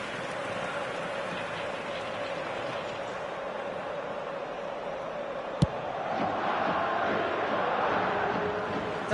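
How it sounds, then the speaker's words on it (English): Stadium crowd in a football video game, a steady roaring murmur of spectators that swells slightly near the end, with one sharp click partway through. "Maybe the crowd will stay a little quieter next time."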